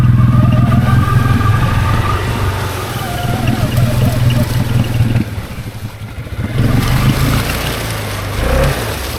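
A Can-Am Outlander G3 ATV engine drones and revs loud and close, reversing through thick swamp weeds, the motor surging and easing as the tires churn, with a brief dip before it picks up again.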